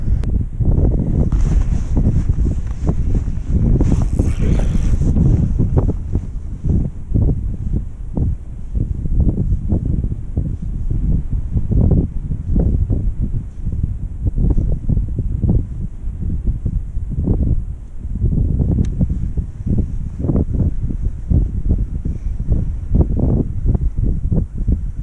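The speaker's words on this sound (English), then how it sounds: "So windy," Strong wind gusts across Fort Peck Reservoir in Montana, roaring loudly and buffeting the microphone throughout, with water lapping beneath.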